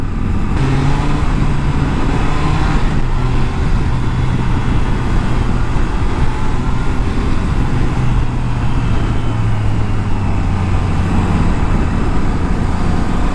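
Morning road traffic with jeepneys in the Philippines makes a dense, constant rumble of engines and tires, close and loud, with no pauses throughout.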